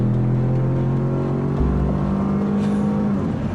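A turbocharged pickup truck launching hard with wheel spin, the engine a loud sustained roar whose tone climbs steadily as it accelerates, with no talk over it.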